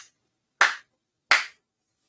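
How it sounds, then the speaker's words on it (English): Ritual hand claps at a Shinto memorial ceremony, two sharp, isolated claps spaced well apart in a quiet room, each ringing briefly before silence. "4 sincere claps."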